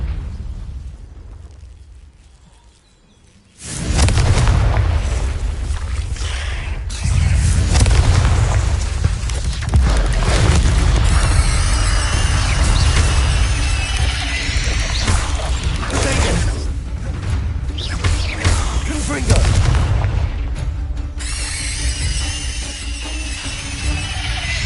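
Confringo blasting spell in Hogwarts Legacy: a sudden loud explosive boom followed by sustained rumbling blasts and crashing bursts, dense and continuous, with brief whooshes.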